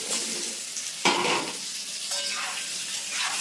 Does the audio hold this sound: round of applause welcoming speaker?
no